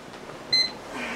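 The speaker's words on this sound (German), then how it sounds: "Dieser Wecker." An alarm clock gives off a brief, bright electronic beep, one short tone rising over a soft room hum, with no voices in the moment.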